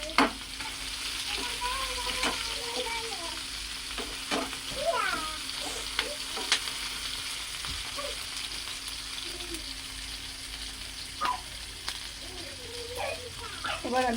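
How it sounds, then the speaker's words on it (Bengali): Green and red capsicum stir-frying in hot oil for fried rice with chilli chicken, a constant sizzle with repeated spatula scrapes and knocks against the pan over fourteen seconds. A faint voice is briefly audible beneath. "এবার আমি গরম তেলের মধ্যে দিয়ে দিচ্ছি ক্যাপসিকাম, গ্রিন এবং রেড ক্যাপসিকাম দিয়ে আমি প্রথমে নেড়ে ছেড়ে একটু ভেজে নেব।"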